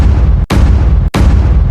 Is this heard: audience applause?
no